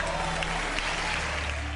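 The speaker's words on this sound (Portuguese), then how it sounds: "O público aplaude." Steady applause from an audience at an evangelical church service, a dense patter of clapping that holds at an even level throughout.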